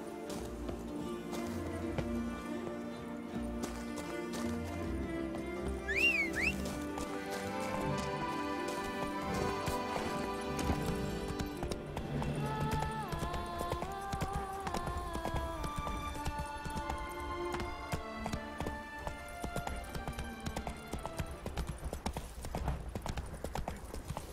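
Hooves of Geralt's horse Roach in The Witcher 3 clip-clop in a steady rhythmic gait throughout, moderately close, under a layered orchestral game score.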